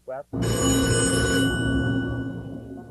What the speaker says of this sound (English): a phone call comes into the office with a critical report